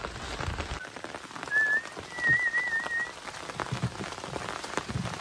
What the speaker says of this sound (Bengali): ঝুমঝুমে বর্ষা, চলে আসো মাছ।